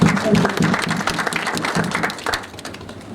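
Audience applause at an entrepreneurs' conference in a hotel hall, a steady wash of many hands clapping close and fairly loud, with some voices mixed in, thinning toward the end.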